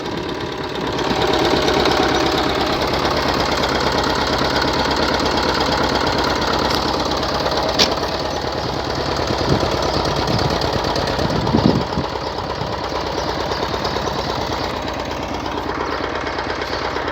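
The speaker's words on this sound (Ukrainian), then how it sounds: "Але ж тихенько працює, правда? Набагато тихше, ніж більшість дизельних мотоблоків." An old Xingtai 120 diesel walking tractor engine runs steadily nearby with a loud, rapid knocking chug that stays constant throughout.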